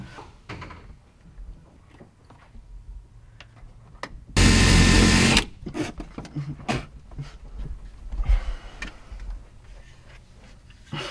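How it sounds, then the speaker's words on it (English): A close power drill whirs loudly for about a second, pre-drilling holes in hard metal for self-tapping screws inside a bus conversion, amid scattered clunks, rattles and handling noises in a quiet workspace. "We have to pre-drill these,"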